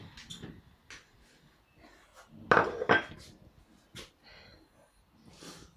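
A knife and utensils clink on a plate while a slice of cake topped with coconut flakes and poppy seeds is cut, with a couple of louder close knocks midway among faint scattered taps.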